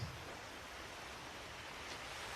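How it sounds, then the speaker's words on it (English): Water rushing in to flood a ship's hull in a Titanic video game, a steady broadband wash like surf or a waterfall, continuous and fairly quiet with no talking. "Hear it start filling up with water."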